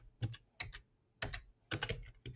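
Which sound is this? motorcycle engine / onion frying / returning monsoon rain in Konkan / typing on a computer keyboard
typing on a computer keyboard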